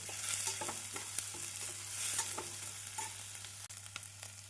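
Onions sizzle and sauté in a pan, with soft scraping stirs and clicks over a steady low frying hiss.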